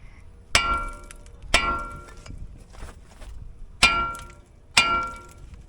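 Four heavy hammer blows ring out against a stuck brake part on an axle, each a sharp metallic clang with a brief ringing decay, spaced about a second apart, close up.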